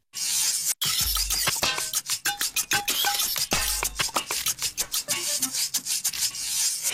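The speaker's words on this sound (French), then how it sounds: "tu vas mélanger rapidement pour assouplir la pâte" A child quickly stirs beaten egg whites into a thick cake batter in a mixing bowl for a quick cake, giving close, brisk scraping and rubbing strokes in an irregular rhythm, with no talking.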